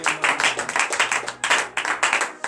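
A church congregation in Benin claps in rhythmic acclamation during morning prayer, many hands beating a steady, fast pulse that swells and dips, close and lively with no talk.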